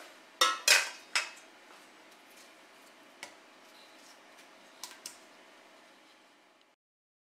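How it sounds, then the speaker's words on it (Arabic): A knife cuts tomatoes and drops the pieces into a cooking pot, giving a few sharp metallic clacks at the start, then scattered softer taps over a quiet background. "دابا غادي ندوز باش نقطعها في الطنجره"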